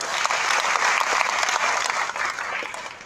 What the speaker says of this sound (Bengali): আমি তাদের জন্য জোরে করতালি চাই।